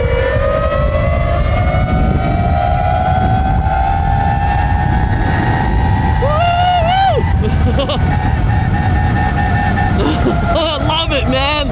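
An Alibaba EM22 72V e-bike motor whines under throttle, its pitch climbing steadily as it accelerates, with wind noise and a person talking over it.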